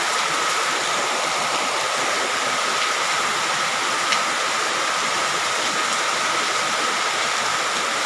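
Dense, steady hiss of heavy rain mixed with rushing water, constant and loud without pause.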